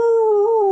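A human voice imitates a wolf howl during a board game, one sustained, steady tonal howl held for under a second, loud and close.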